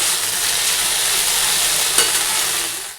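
Okra and potato bhaja fry in a pan with a loud, dense, continuous sizzle and crackle, steady throughout with one brief stir.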